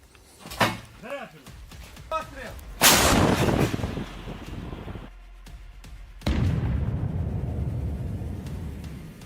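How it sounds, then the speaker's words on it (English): Ukrainian artillery firing at a vehicle: heavy booming blasts, the first after radio chatter and a second later on, each followed by a long rumbling decay, with voices talking in between. "Precise hit from Ukrainian artillery and the vehicle stops. The second shot is fired to secure the destruction."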